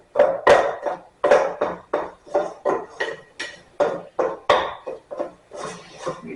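Tart dough being stirred in a bowl: a steady series of clacking knocks and scrapes from the utensil against the bowl, close and fairly loud, with a few faster strokes near the end.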